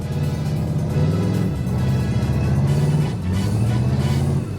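A long-neglected Pontiac Phoenix revs hard with its wheels spinning, its loud, steady engine drone rising and falling in a couple of surges.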